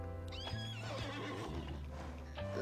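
A horse in the online game Alicia Online whinnies loudly and close, one long wavering neigh over a steady background music bed, with no talking during it.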